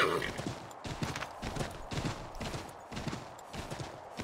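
A horse trots at a steady, rhythmic clip-clop in Assassin's Creed 3, its hoofbeats even and moderately close, with a voice talking over the riding.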